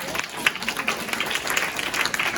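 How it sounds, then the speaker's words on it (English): An audience at an NGO panel on women's leadership claps for a speaker, a dense, even patter of many hands sustained throughout with no voices. "Let's have a big clap for Vera."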